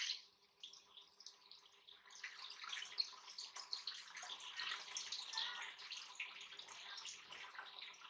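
Water pumped out from the center of a small self-cleaning road model, a continuous close splashing and gushing that starts with a brief burst, dips, then swells into a steady rushing flow.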